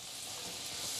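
Flour-coated lamb shanks, dusted with cumin, salt and pepper, browning in a fry pan, giving a steady, close, bright sizzle with no break.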